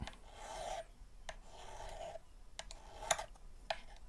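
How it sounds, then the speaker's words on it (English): Rough, rasping grinding in repeated strokes, with sharp ticks and clicks between them, fairly quiet and close. "You can hear that grinding."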